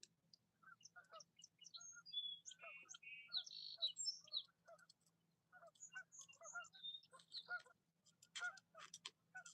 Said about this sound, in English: I don't know if you can hear those geese, but it's crazy.